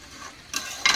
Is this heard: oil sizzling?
yes